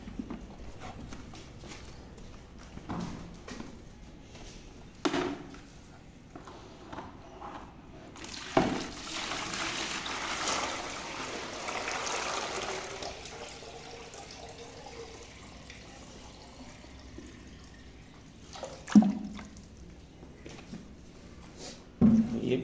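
Water is poured out for goats in a shed in winter, a sustained splashing pour in the middle, surrounded by hoof clatter, knocks and movement, fairly close.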